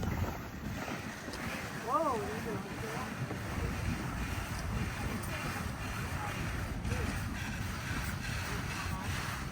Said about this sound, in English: Oh yeah, catching the wind now.